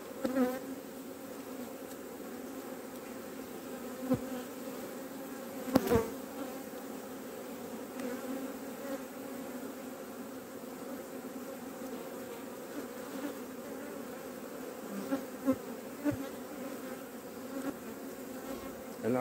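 Honey bees buzz around an opened hive, a continuous layered drone with individual bees zipping close by in brief louder passes, fairly quiet and steady, no speech.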